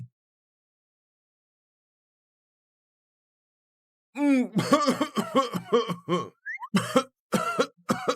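Silence for several seconds, then an elderly man's burst of harsh, close coughing with throaty, voiced hacks and short gaps between them.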